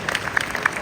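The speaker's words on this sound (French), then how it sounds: "Des applaudissements pour Guy Pressanda, s'il vous plaît." Brief scattered applause from a small audience at the launch of a French competition, a handful of separate claps standing out over a light background.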